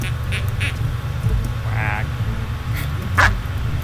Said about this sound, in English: Okay, that sounds like a dog.